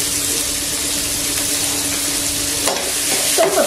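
Onions frying in a pan with masala while being stirred, giving a loud steady sizzle with scraping stir strokes near the end and no talking.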